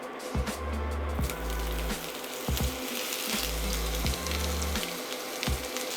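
Onion sizzling in a hot pan for shakshuka, a steady close frying hiss interrupted by rhythmic clacking thuds from stirring or an appliance.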